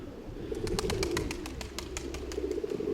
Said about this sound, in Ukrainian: Підльотує потрохи голубка